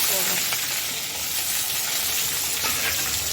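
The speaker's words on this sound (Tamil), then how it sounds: "நல்லா ப்ரௌன் ஆகிற வரைக்கும் நல்லா ஃப்ரை பண்ணுங்கள்." Small shallots frying in oil for mutton pepper fry, a continuous close hissing sizzle with occasional stirring, no talk.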